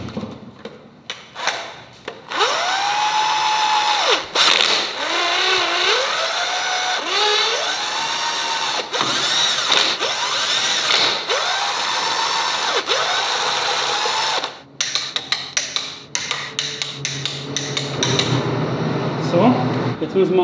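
Power tool, likely an impact driver, tightening the cover bolts on the gearbox of an RS4 Limo 2.0 in a workshop, with repeated loud bursts separated by short pauses and voices talking in between.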